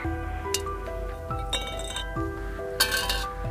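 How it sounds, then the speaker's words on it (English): An aerogel block dropped onto a surface gives several bright metallic clinks one after another, each with a short tinny ring, close and fairly loud over a steady low hum. "It's like an empty can dropping onto a steel surface. Very metallic."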